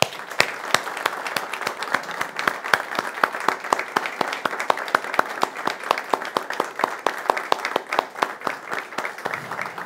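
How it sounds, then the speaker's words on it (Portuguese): A congregation's round of applause for Dr. Roberto Kigawa at a church talk, many hands clapping in a steady sustained patter with sharp individual claps standing out, continuing evenly throughout. "Eu queria pedir uma salva de palmas ao Dr."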